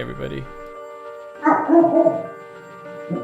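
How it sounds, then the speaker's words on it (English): A dog barks a few times, with a short burst at the start and a louder cluster of barks in the middle, behind and between a person talking indoors. "That was my dog."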